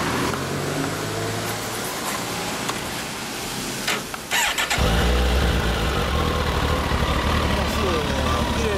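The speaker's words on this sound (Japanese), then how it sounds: "エンジンを聞かせてもらえますか？" A loud 2010 Kawasaki ZX-14 sport motorcycle engine with Ostrich-spec fittings cranks briefly, catches with a sharp roar, then settles into a steady, throaty idle close by.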